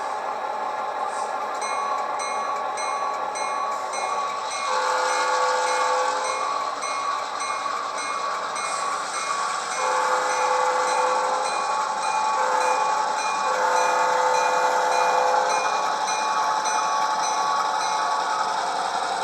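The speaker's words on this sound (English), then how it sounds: "we'll watch them as they depart Carrollton, heading south to do their switching for the day" Norfolk Southern freight train with an ex-Southern high-hood GP38AC locomotive departing Carrollton, heading south; steady rolling rumble with metallic squeal and clanking wheel noise, continuous and fairly close, no talking.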